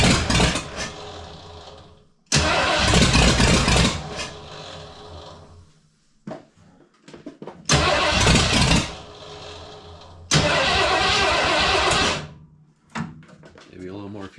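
A Ford F-100 with a swapped V8 engine cranks and fires in loud bursts, revving up then dying away twice, with a short quieter stretch between attempts.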